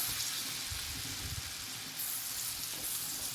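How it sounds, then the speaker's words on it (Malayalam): Chopped bananas roasting in melted butter in a pan for a banana cake, a soft continuous sizzle and crackle with faint stirring, quiet and close. "ഇതിലേക്ക് നമുക്ക് രണ്ട് കോടം പഴം ചെറുതാക്കി നുറുക്കിയത് ആഡ് ചെയ്ത് കൊടുക്കാം എന്നാൽ നമുക്കിതൊന്ന് റോസ്റ്റ് ചെയ്തെടുക്കണം കേട്ടോ"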